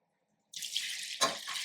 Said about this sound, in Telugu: అట్లా వాటర్ తోటి పోసేస్తాం.